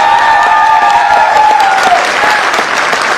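Audience clapping loudly at a motivational speech, a dense sustained roar of applause that holds steady and eases slightly toward the end, with a ringing tone running beneath it.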